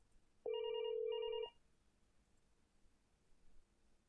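MicroSIP softphone rings for an incoming call on an Asterisk setup, a single steady electronic ring tone lasting about a second, clear and close, followed by quiet room noise.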